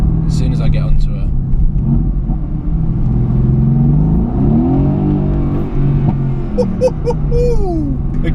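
A Mercedes-AMG GT S engine rumbles and builds in pitch as the car accelerates, heard from inside the cabin as a loud, steady drone with a rising sweep, while someone talks over it.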